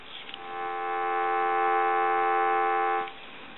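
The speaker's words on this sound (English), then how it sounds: "We'll give you some dial tone." A Coleco Cabbage Patch Kids toy telephone gives a steady buzzing dial tone that rises in, holds evenly for about two and a half seconds, then cuts off, close and moderately loud over faint background hiss.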